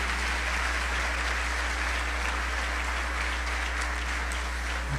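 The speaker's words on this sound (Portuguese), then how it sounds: "Você pode dar uma linda salva de palmas a Jesus por isso?" A church congregation claps together during a sermon, a steady dense wash of applause lasting several seconds with no speech over it, under a constant low hum.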